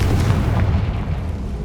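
Confringo fire spell blasts in Hogwarts Legacy, a heavy low booming burst that rumbles steadily for the whole moment, loud and close with no talking.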